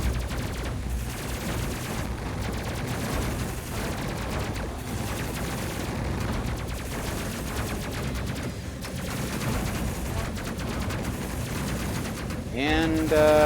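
Autocannon fire in the space combat video game Space Crew, rapid continuous bursts of loud gunfire hammering away for the whole stretch, dense and steady with brief dips, under occasional speech.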